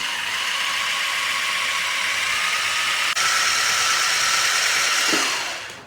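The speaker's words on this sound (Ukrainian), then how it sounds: "Ну все, працюємо блендером." Electric blender whirring steadily through a cheese sauce with chopped dill for baked potatoes, a loud continuous hum that briefly falters midway, resumes, then winds down and stops at the end.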